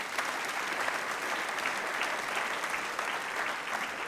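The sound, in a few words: audience applauding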